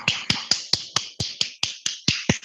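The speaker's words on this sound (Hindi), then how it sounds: "तो ट्रू नेक्टर के लिए एक बार खूब जोर से ताली बजाइए प्लीज" Audience claps for True Nectar at a product presentation, a steady series of about eleven sharp, evenly spaced claps, close and crisp with no talk.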